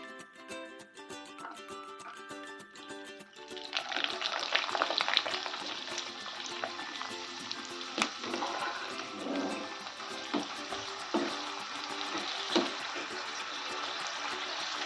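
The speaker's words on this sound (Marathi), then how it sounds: "चला परत एकदा तळून बघूया" Sabudana potato chakli deep-frying in hot oil: a quieter start gives way after a few seconds to a loud, steady bubbling sizzle with scattered sharp crackles and pops.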